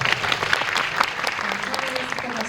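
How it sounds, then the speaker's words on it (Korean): A film screening audience with director and cast present applauds in a dense, steady wash of clapping and crowd noise that holds at an even level throughout. "다시 한번 큰 박수 부탁드립니다"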